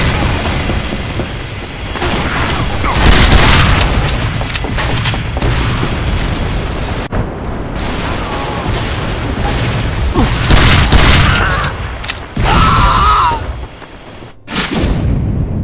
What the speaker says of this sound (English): I'll give you a volley of explosives